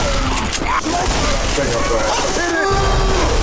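Rapid gunfire rattles through a Left 4 Dead 2 zombie fight on the Cold Stream campaign, with dense overlapping shots and mechanical clicks heard up close over continuous game noise.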